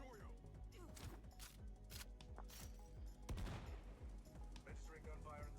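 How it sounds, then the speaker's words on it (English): Gunfire in an episode of the Cyberpunk: Edgerunners anime, a rapid fusillade of sharp shots mixed with louder bursts and rattling automatic fire, heard throughout under scattered talk. "Registering gunfire in the service area."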